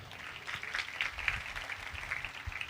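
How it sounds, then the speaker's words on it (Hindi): Soft, steady applause from a church congregation during an Urdu Christian sermon, continuous and somewhat distant, with no one speaking. "आओ इस बात के लिए तालियां बजाएं"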